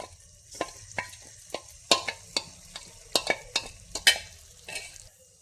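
Sharp scraping and clattering strikes of a utensil in a pan ring out in an irregular series over a faint sizzle, as batter goes into a hot pan with coconut oil.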